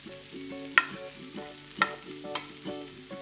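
Grated paneer is stirred into roasting spices in a pan, giving a soft steady sizzle broken by a few sharp scraping clinks of the spoon, close up and without talk.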